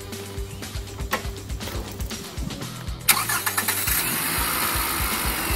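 A 2011 Scion tC's 2.5-liter R-Series engine idles with a steady low throb, then surges louder partway through into a stronger, continuous running roar, close and alone with no voices.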